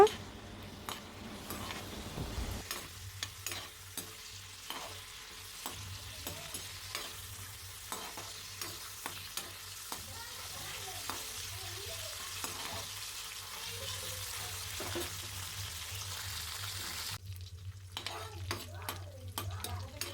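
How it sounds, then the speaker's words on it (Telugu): Small dried fish fry in hot oil in a pan for a brinjal curry, giving a steady low sizzle with frequent sharp spatula scrapes and clicks throughout, at moderate, fairly quiet level with no talk. "నెత్తల్ని వేయించుకోవాలి"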